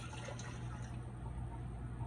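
Water is poured into a measuring cup for a bread maker loaf recipe: a steady, continuous liquid pour with a low hum underneath, close and fairly quiet, with no talking.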